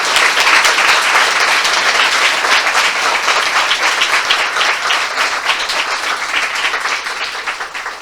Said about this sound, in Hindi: आइए हम प्रभु यीशु मसीह के लिए जोरदार ताली बजाएं।